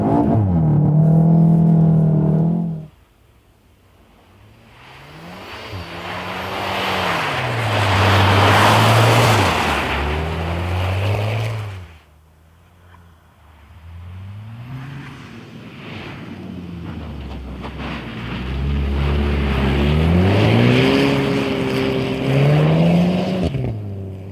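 A VW Golf 7 R driven hard and drifting on a track, its engine revving up and down in repeated surges with gear changes, loud and close, broken by quieter stretches of rushing noise.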